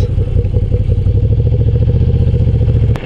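A motorcycle rides close by in a steady corner with its engine running and a constant rough clatter throughout, loud and unbroken, with no voices.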